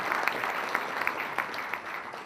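An audience at a conference talk claps together in tribute to a late team captain, a steady stream of hand claps with a few sharper individual claps standing out.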